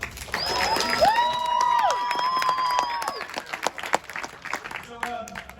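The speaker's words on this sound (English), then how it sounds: "Give yourselves a round of applause." Clapping and cheers from a crowd at a student film premiere in a movie theater, mixed with whistles and a sustained tone, with scattered claps and voices trailing off afterward.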